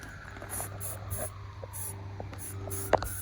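Brake cleaner sprayed from an aerosol can during wheel bearing work on an M37, a series of short hissing spurts in a steady stop-start rhythm over a low background hum, with a small clack near the end.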